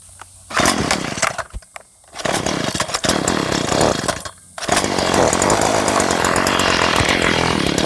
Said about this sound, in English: More mowing meditation with Willis.